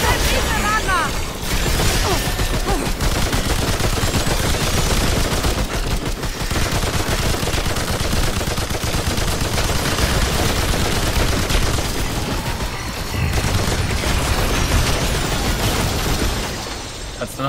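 Dense, continuous gunfire from the Remnant 2 soulslike shooter, rapid overlapping shots and bursts filling the whole stretch with barely a pause, with excited voices talking over the shooting.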